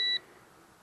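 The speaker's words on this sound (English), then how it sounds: "If you can hear the beep of the meter" A handheld multimeter gives a short, clear electronic beep while probing connector pins on a wiring harness of a 7.3L Powerstroke diesel, stopping abruptly and leaving a quiet shop background.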